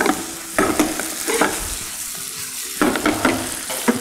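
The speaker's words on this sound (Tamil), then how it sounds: "இதை அப்படியே நம்ம ரொம்ப புரட்டாமல், அதாவது டிஸ்டர்ப் பண்ணாமல் நம்ம லைட்டாக அப்படியே டாஸ் பண்ணிக்கிறோம்." Chilli chapati with spring onion is tossed in a hot pan. Close sizzling runs under a series of scraping stir-and-toss strokes, with a brief quieter pause midway.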